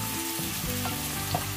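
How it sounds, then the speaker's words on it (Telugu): Onions, curry leaves and green chillies fry in hot oil for a Telugu tempering, giving a steady close sizzle with faint crackles and stirring throughout, no voices. "ఇలా తాలింపు వేసుకున్నప్పుడు ఆ సౌండ్ వస్తుంది కదండి"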